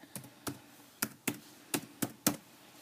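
Seven separate keystrokes on a computer keyboard, spaced unevenly and tapped deliberately, close and fairly soft against a quiet room.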